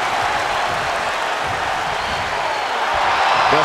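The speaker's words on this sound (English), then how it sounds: "The sound of this crowd is deafening, and he's asking for more." A loud, dense arena crowd roars and cheers continuously during a wrestling match in the WWE 2K22 video game, a broad, steady wash of noise that swells slightly toward the end.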